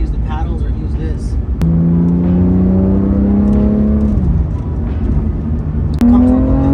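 A Nissan GT-R engine revs up through a gear, its rising whine breaking off sharply at a shift before climbing again, loud and close from inside the cabin, with someone talking over it.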